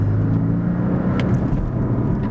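A Porsche 718 Cayman's turbocharged flat-four pulls on boost, a loud, steady low engine drone with whirring overtones heard from inside the car, without talk.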